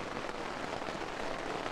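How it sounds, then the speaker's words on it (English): Rain falls steadily at a motorcycle campsite near Stanley, Idaho, a dense even patter on surfaces nearby with no voices. "it's actually kind of raining now."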